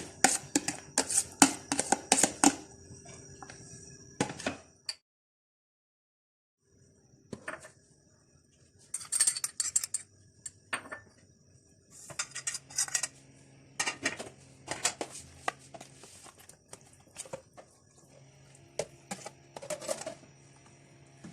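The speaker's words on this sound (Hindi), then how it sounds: "यहाँ बर्तन के अंदर जो हमारे पास तमाम इंग्रेडिएंट्स हैं, ये सब इंग्रेडिएंट्स हम एक साथ डालेंगे इसके अंदर।" Clattering metal pot and utensil knocks as chopped ingredients for smoked chicken are tipped into a cooking pot, in irregular bursts of clinks and scrapes with a quiet gap midway.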